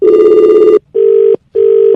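A telephone rings loudly with an incoming call: one long electronic ring followed by two shorter bursts separated by brief silences, close and alone.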